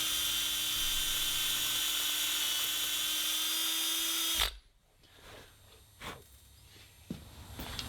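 A drill boring out an exhaust stud in a cylinder head gives a loud, steady, high whine for about four seconds, then cuts off abruptly, leaving faint handling clicks and knocks.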